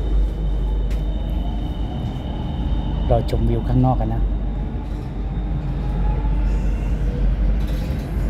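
A BTS skytrain in Bangkok runs between stations, giving a steady low rumble of rails and motors with a brief metallic squeal near the middle, while a person talks and a recorded announcement plays over the noise.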